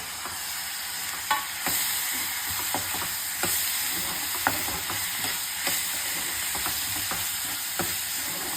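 Onions and tomatoes frying in a pan for fish curry are stirred with a spoon, making a continuous hiss and sizzle broken by sharp scraping clicks at an uneven pace, close and alone.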